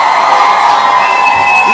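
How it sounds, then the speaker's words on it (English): A large political rally crowd cheers and applauds loudly and continuously, the roar filling the whole moment with shouts and whoops on top. "give the beautiful Jess a round of applause"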